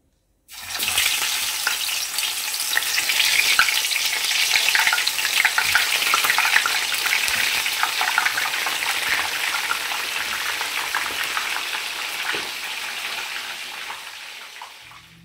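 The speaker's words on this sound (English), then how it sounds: "artichokes go in for shallow frying" Steady, loud sizzling and crackling of artichokes shallow-frying in hot oil, continuous for the whole stretch with small pops throughout.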